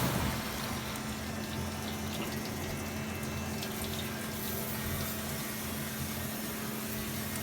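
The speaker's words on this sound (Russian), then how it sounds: "Вот шум изменился, идет ополаскивание. Это уже кипятком из бойлера." Fagor FI 120 dishwasher running its rinse cycle with hot water from a boiler, giving a steady, continuous hum of pumped and sloshing water with a low motor drone, close and even throughout.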